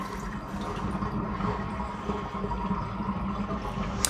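Tap water running steadily into a sink to rinse hand-dyed yarn, a constant close splashing rush throughout with no talk.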